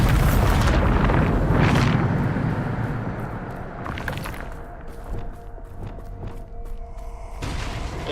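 A Bombarda spell explosion in Hogwarts Legacy bursts with a loud, deep boom at the start that rumbles and fades over several seconds, followed by smaller crackling impacts and debris sounds, with no talking.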